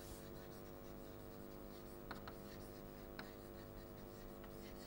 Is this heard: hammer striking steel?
no